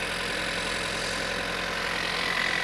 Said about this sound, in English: There we go, so engine's running.